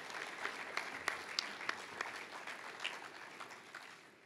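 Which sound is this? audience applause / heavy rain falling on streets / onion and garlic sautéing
audience applause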